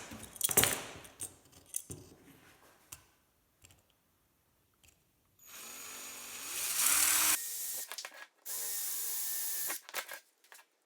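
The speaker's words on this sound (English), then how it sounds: "I got it all drilled out here" A small drill bores holes in a plastic Tamiya model flatbed trailer, with short clicky handling noises first and then two sustained bursts of close, steady whirring.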